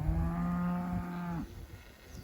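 A cow on a farm gives one long, loud, close moo with a harmonic, droning tone that breaks off abruptly, followed by quieter farmyard background.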